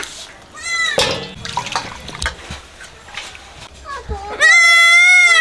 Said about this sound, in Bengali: এগুলো হচ্ছে বেঙ্গল গোট এইটা হচ্ছে বন্ধুরা কচি পাঁঠা